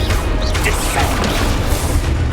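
A Descendo spell in Hogwarts Legacy slams a target to the ground, a loud, continuous heavy crash with low booming rumble through the whole moment.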